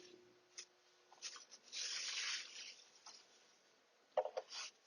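A StewMac ES-335 kit guitar body is unwrapped, giving quiet rustling and rubbing of wrapping material in short, uneven bursts, with a brief sharper crinkle near the end.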